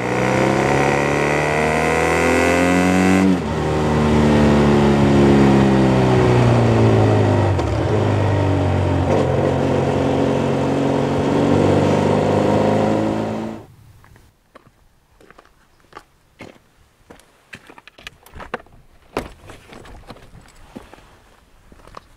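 A motorcycle engine picked up by a bike-mounted Shure SM11 microphone on a GoPro Hero 3 and then processed on a computer, revving loud and near with rising and falling pitch before cutting out at once, leaving scattered clicks and knocks.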